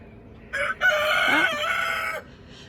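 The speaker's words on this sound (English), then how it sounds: "the Leghorns crosses are down there in the dust bath" A rooster in a backyard flock that includes Leghorn crosses gives a loud, close cock-a-doodle-doo, preceded by a short cluck-like note and trailing off into quiet, with no talking.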